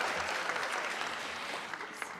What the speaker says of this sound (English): Give a round of applause, please, for Briley and Braden Sims, our mail carrier and our Navy girl.